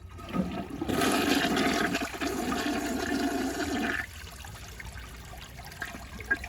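A Jacuzzi Perfecta toilet flushes with a dish towel in the bowl. A loud rushing gush lasts about three seconds, then fades to a quiet trickle and refill.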